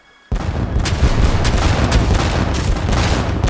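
Ship cannons fire in the Age of Empires III video game, a sudden heavy boom followed by a rolling barrage of deep blasts and rumbling reverberation, loud and dense.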